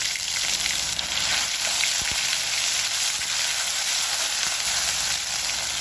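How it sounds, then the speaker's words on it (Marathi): Cumin and mustard seeds fry in hot oil in a pan for a spicy Marathi drumstick curry, giving a steady, close, even sizzle with a few faint pops and no talking. "तेल गरम झालं की टाकणार आहे जिरी मोहरी त्यानंतर टाकणार आहे कढीपत्ता"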